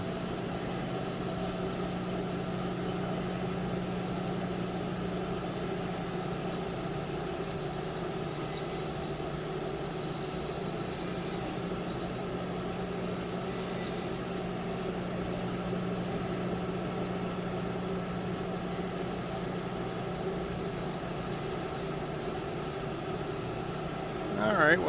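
Landis 14-inch by 120-inch CNC cylindrical grinder running in grind mode, a steady continuous machine drone with constant tonal hum and whine, no break in level throughout, close and fairly loud.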